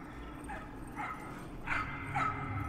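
Several small dogs bark in short bursts in the video game Trover Saves the Universe, with about four distinct yips at moderate volume over a steady low game hum.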